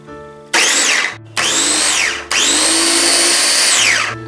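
A Preethi Turbo Chop electric chopper whirs through cabbage in three loud close bursts, the motor pitch rising and sagging as it cuts, separated by brief pauses.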